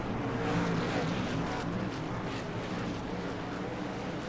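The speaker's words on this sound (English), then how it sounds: "throw it in neutral, and rev their engine" A steady engine drone rumbles throughout, loud and continuous with no clear rises, like a car idling or revving outdoors.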